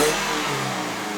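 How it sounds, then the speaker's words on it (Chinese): A 2021 Perodua Bezza 1.3L X car engine revving with its exhaust note, a steady mid-pitched engine drone held close and loud for a moment, with no talk. "我们来踩一下油听一下"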